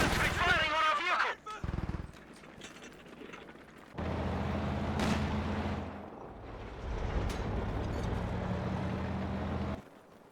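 Gunfire striking a vehicle in the Company of Heroes 2 strategy game: bursts of shots and impacts over a rumbling engine, with someone talking over the battle noise at the start.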